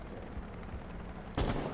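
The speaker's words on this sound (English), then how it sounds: "You shoot him, Buck" Gunfire in Rainbow Six Siege breaks out suddenly near the end as a loud, dense burst of shots after a stretch of low in-game background noise.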